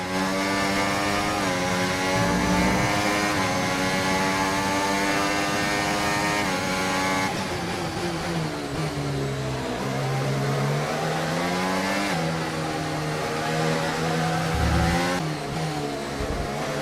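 Formula 1 race car engine on track in the F1 24 video game, a loud sustained high-pitched whine with rising and falling revs through gear changes and corners, running throughout with no talk.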